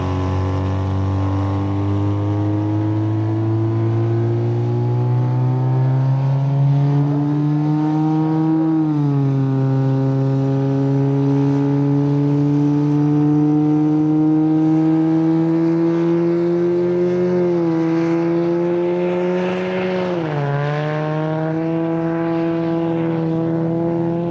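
A loud push-truck engine on the Bonneville Salt Flats drones steadily and close, its pitch climbing slowly with a few brief dips as it revs, with no voices.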